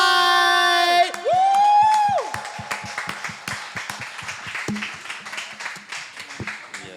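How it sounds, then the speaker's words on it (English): Audience applause and cheering for the acoustic act Finding Light at an open mic night in a coffeehouse, a dense crowd of clapping hands with whoops, following a sustained instrumental note at the start. "Can we please give a nice round of applause to Finding"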